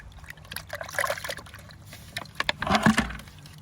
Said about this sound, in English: You rinse it in the dirty water